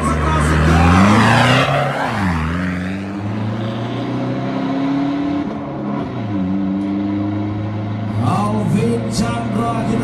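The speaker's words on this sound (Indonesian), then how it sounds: "Alvin Chandra dengan menggunakan kendaraan Toyota Hiace" A Toyota Hiace van in the Bracket 19 class launches down the drag strip at an Indonesian drag event, its engine roaring loud and close, revving and sweeping in pitch, with an announcer talking over it.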